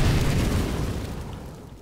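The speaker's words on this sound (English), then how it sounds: "I'm throwing fire!" A thrown fire grenade bursts in a Counter-Strike match on the map Cache, a loud close boom that rolls off into a fading rumble over about two seconds.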